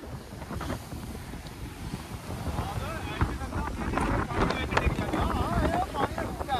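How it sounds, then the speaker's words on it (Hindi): Strong wind gusting across a beach at Rasta Naura in Saudi Arabia, buffeting the microphone with rumbling blasts over surf, while a voice speaks faintly underneath. "एक तो हवा का प्रेशर बहुत है"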